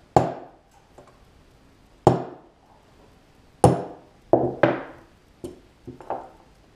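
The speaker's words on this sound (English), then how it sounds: "You grab a hammer." A hammer taps a pin punch while a Mikuni carburetor is taken apart, making sharp, ringing metal taps, spaced unevenly with several quicker hits near the end, close by and alone.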